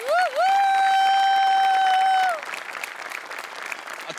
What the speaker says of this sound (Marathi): तुझ्यासाठी स्पेशल टाळ्या